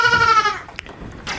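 A goat in a small black, white and tan herd gives one loud, wavering bleat up close, followed by a short thump and a fainter second call.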